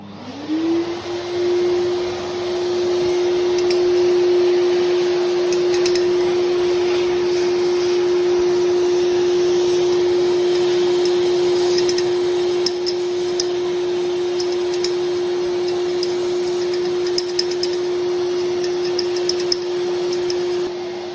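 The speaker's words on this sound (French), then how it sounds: "Petit coup d'aspirateur" A vacuum cleaner runs steadily beside an ETA SH TWIN boiler during maintenance, spinning up at once to a loud, even whine that holds unbroken for about twenty seconds, close and alone.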